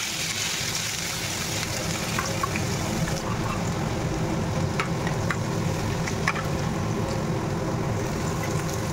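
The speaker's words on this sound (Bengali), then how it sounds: "আলু ভাজা বসেছি" Potatoes fry in plenty of oil in a karai in a home kitchen, a steady, close sizzle with occasional soft stirring scrapes and splashes running throughout, with no talking.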